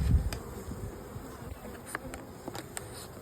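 Honey bees buzz around a hive used for raising queens, a close steady insect hum with a few louder passes as individual bees fly near.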